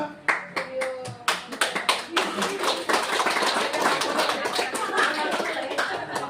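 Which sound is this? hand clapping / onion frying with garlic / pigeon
hand clapping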